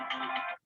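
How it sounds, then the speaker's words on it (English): Phone ringing nearby, a single short electronic tone with a bright harmonic buzz that cuts off abruptly. "phone ringing."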